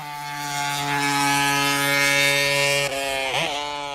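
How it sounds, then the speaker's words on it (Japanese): A Honda 50cc two-cylinder racing engine gives a high, sustained exhaust wail that echoes off the hills at the Motegi circuit, holding a steady pitch before a quick drop and a wavering rise as it shifts or passes. "甲高いエンジンの音が排気音がというべきですかねえっと茂木の山々にこだまするのがわかるかと思います"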